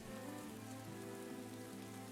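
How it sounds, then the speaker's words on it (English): Steady rain patters across surfaces in a city within a colony-building game, a dense, continuous hiss with soft droplet texture and a low hum of game ambience beneath, no voices. "Ah, raining in the city again."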